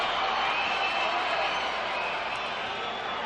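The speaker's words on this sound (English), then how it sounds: "Crowd in the arena is still responding favorably for Oscar De La Hoya" Arena crowd at a boxing event cheering for Oscar De La Hoya, a steady, dense roar filling the space without pause, no clear individual voices standing out.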